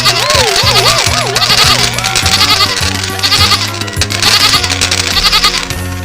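A goat bleats in wavering, laugh-like bursts as it is tickled, loud and close over a busy, continuous music track.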